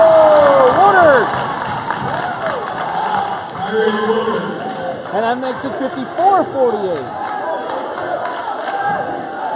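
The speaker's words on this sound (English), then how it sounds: "And now the crowd is fired up." A college men's basketball crowd roars and cheers in an arena, a broad sustained wash of shouting voices with someone commentator talking over it throughout.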